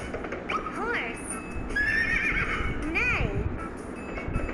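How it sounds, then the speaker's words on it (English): A horse neighs twice in a loud, quavering whinny, each call rising and falling, with a soft clip-clop of hooves beneath and a steady background hiss. "A horse makes a neigh sound."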